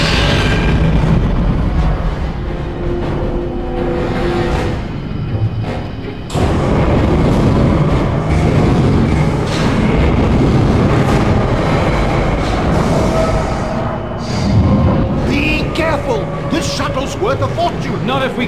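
A spaceship crashes through a debris field in the Dead Space Extraction video game, with a continuous loud roar of rumbling impacts and booms, and voices shouting over the din.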